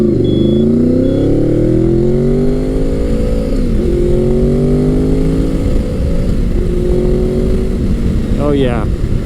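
A Gen 5 Honda VFR800 motorcycle revs up loudly and close by. Its engine note climbs in smooth, rising sweeps through the gears, dips between shifts, and ends in one sharp high rev.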